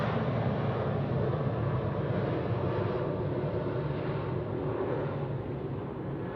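An airliner climbs out after takeoff at Sydney Airport, its jet engine roar a broad, steady rumble that slowly fades as it pulls away.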